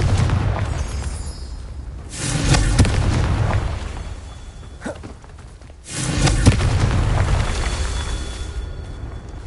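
Confringo fire spell explosions in the video game Hogwarts Legacy: two heavy booming blasts a few seconds apart, each with a long rumbling roar that fades before the next, loud and close.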